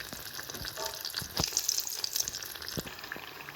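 Breaded gluten-free eggplant frying in a pan: a continuous close sizzle with scattered crackles and pops, with no voices.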